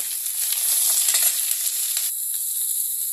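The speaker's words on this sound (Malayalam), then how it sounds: "കറിവേപ്പില നന്നായി ഇട്ട് കഴിയുമ്പോൾ അതിലേക്ക് നമ്മൾ അരിഞ്ഞു വെച്ചിരുന്ന സവാളയും ചെറിയ ഉള്ളിയും ചേർക്കുക" Chopped onions and shallots tipped into curry leaves already frying in hot oil for chicken thoran, a bright continuous sizzle close by that shifts in tone as the onions go in, with no talking.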